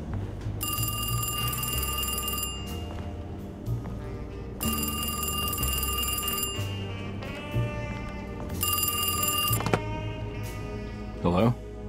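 A telephone bell rings in the horror video game Alone in the Dark, loud repeated trills in three long bursts with short gaps between them, over a low game soundscape and a brief thump near the end.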